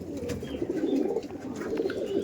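Madrasi pigeons at a seller's loft give soft, low throaty cooing that rolls on steadily, close by and moderately quiet, with faint background noise.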